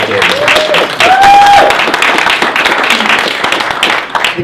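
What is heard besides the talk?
audience round of applause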